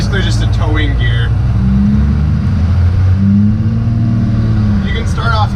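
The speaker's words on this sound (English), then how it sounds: "Really hear that Cummins sound" Lowered first-generation Cummins diesel pickup truck engine idles and revs with a deep, loud, rumbling drone close to the microphone, its pitch rising and falling while people talk over it at the start and end.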